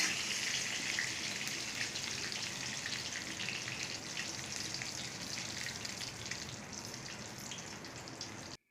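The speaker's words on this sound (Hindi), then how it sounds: "कढ़ाई में तेल लेंगे, तेल में सरसों डालेंगे" Mustard seeds and chopped green chillies fry in oil in a kadai, giving a steady, soft crackling sizzle that runs evenly throughout without talk.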